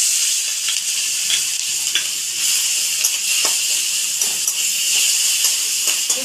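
Food fries in a generous amount of hot mustard oil in a wok for a yardlong-bean mash, giving a loud, constant hissing sizzle broken by light stirring taps, with no talk.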